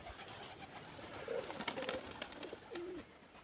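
A pigeon coos three times in quick succession, low and moderately close, over a faint steady background hiss with no one talking.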